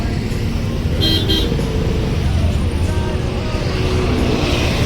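Busy roadside traffic near a crowded shop with a line of vehicles, a steady broadband rumble of engines with a couple of short car horn toots standing out near the one-second mark.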